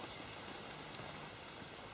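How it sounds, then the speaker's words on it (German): Steady country rain falling over a vineyard on a Saturday in May, a soft continuous patter of drops with no voices, quiet and even throughout. "Und heute haben wir so einen richtigen Samstag, Landregen."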